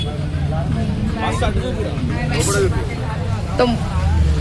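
A bus on a busy Hyderabad road, its engine rumble and passing traffic noise close by, with people talking over the vehicle sound throughout.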